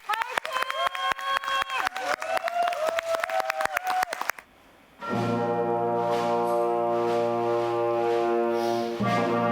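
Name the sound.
audience applause for a school wind orchestra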